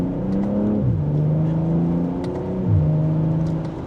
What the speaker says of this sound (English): So a U-turn like this should be pretty easy to do here.